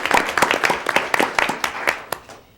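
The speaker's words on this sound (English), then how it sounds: "Let's give him a round of applause." A small group at a public school board meeting gives a round of applause, distinct individual claps in a quick uneven rhythm that thin out and fade to quiet by the end.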